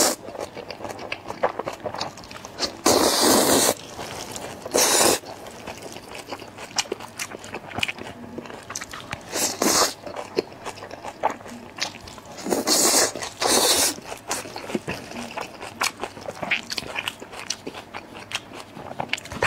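Food being eaten close to the mic in an ASMR mukbang eating challenge, with sharp crunchy bites and wet chewing and scraping between them, loud bursts of biting repeating every few seconds with no talking.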